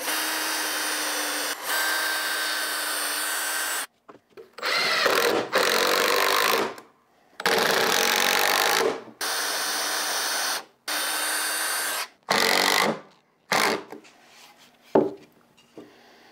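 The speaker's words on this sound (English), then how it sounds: "I'll drill a couple of pilot holes." A power drill boring pilot holes into scrap wood for bench legs, several whirring bursts of a few seconds each separated by pauses, close and loud, ending in shorter stop-start pulses.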